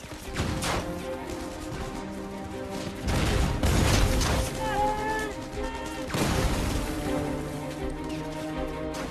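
Battle gunfire and grenade blasts as a company forces the surrender of a German bunker on a hilltop: dense bursts of shots and booming explosions, loud and continuous, with shouted voices mixed into the din.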